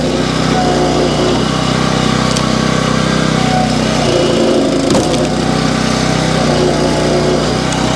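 A Split Force 9 towable vertical log splitter works through hard hickory, its engine droning steadily and loudly throughout with a brief sharp crack of splitting wood midway.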